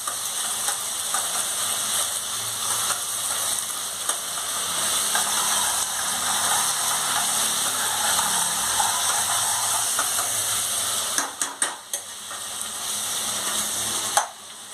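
Onions sauté in a hot pan for chicken sukka masala, giving a steady, close, crackling sizzle throughout, with a few brief clatters near the end.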